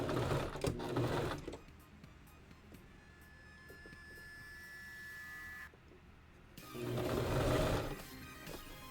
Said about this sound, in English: So now I gotta do the hard part, which is sewing the rest of the pocket.